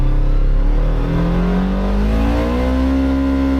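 Polaris Xpedition side-by-side engine after a power upgrade, revving high toward 8,000 RPM, a loud, steady roar with a pitch that climbs slowly, close-up and with no voices.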